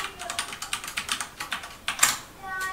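Quick, evenly spaced keystrokes as a password is typed on a computer keyboard, close and fairly faint, ending with a single firmer key press.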